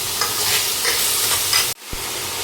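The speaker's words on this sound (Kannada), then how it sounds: "ಅದನ್ನು ಫ್ರೈ ಮಾಡ್ಕೋಬೇಕು." Two finely chopped onions fry in hot oil with cumin seeds in a pan, a steady loud sizzle with light stirring that cuts off sharply near the end, then resumes more faintly.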